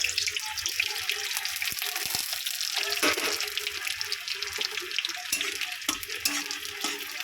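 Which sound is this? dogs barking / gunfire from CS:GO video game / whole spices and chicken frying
whole spices and chicken frying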